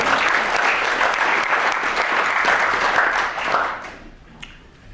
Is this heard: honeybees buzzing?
no